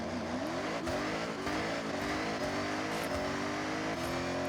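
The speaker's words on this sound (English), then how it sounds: "Oh yeah, it's got V8." Ferrari F80 V8 engine in Forza Horizon 6 revving hard and sustained, its pitch sweeping up through the gears with steady, loud drive and a faint squeal of tires.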